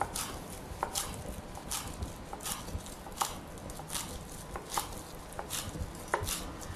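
Fresh herbs, leaves stripped from the stems, are coarsely chopped with a knife on a board: a steady run of close, crisp knocks at an uneven pace, with no talking.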